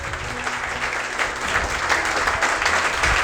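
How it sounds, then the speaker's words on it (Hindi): Students in a class for the Indian Army written exam applauding loudly, a dense continuous burst of clapping that swells slightly toward the end. "एक बार और जोरदार तालियां बजाइए अपनी"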